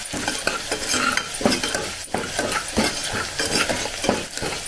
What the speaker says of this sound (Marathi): इथे हळदीचा 1 छोटा चमचा हळद टाकायची, धना पावडर 1 छोटा चमचा, सगळं मिक्स करून घेऊ